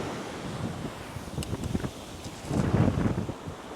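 Ocean waves wash ashore at Coco Beach in Dar es Salaam, a soft continuous surf rush mixed with wind buffeting on the microphone, swelling slightly near the end.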